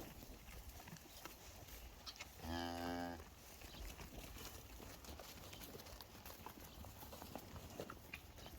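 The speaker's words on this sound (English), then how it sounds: "The cows are in here. The cows are coming, man." Cattle in a farm barn give a single loud, drawn-out moo that rises over a steady background of shuffling and low farmyard noise, with no other clear calls before or after.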